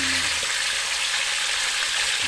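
Chicken pieces deep-frying in a pan of hot oil give a steady, close, loud sizzle with a few small pops near the start and no talk over it.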